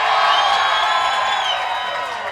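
A live crowd at the Minnesota State Fair cheers and whoops loudly, a dense, sustained roar of voices that fades slightly toward the end.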